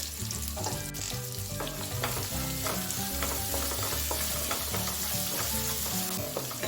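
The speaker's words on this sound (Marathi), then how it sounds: "आता ही प्युरी आपल्याला तेल सुटेपर्यंत फ्राय करून घ्यायची आहे" Masala puree seasoned with whole spices and turmeric fries in oil for a hotel-style drumstick curry, giving a loud, steady sizzle that runs unbroken throughout, with tonal background sounds underneath.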